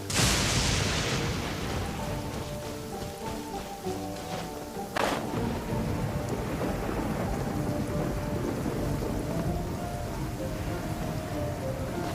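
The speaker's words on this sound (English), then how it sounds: "It's raining." Steady heavy rain pours throughout a video game scene, with a rumble of thunder and a sharp crack partway through, and no talking.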